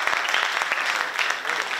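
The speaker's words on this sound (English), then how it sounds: "You're getting a lot of applause now." An audience applauds steadily after a lecture by Harvard professor Robert Putnam, the dense clapping filling the room throughout the brief moment.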